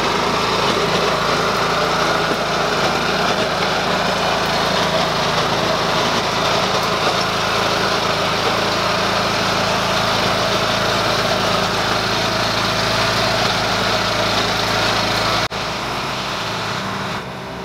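A BCS walk-behind tractor with a 30 inch implement runs in a greenhouse, its engine droning steadily and loudly close by before dropping off near the end.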